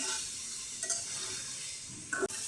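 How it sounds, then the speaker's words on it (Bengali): Eggplant fries in a pan with a steady soft sizzle and hiss, stirred by a utensil that gives a brief clink near the end. "আমার বেগুনগুলো ভালো করে কষানো হয়ে গেছে"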